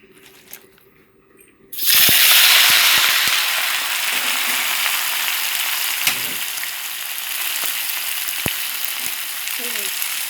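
Shrimp and bok choy hit hot oil in a wok after a quiet start, bursting into a loud, steady sizzle that continues with occasional stirring clicks and scrapes.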